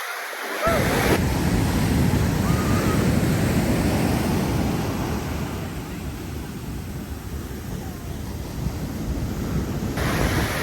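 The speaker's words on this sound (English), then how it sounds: "It never fails that I get hit by these waves" Ocean waves breaking and washing over someone standing in the surf, a loud, close roar of rushing water with wind buffeting the microphone, swelling at first and then easing slightly.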